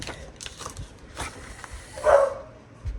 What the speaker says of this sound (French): Pourquoi il aboie?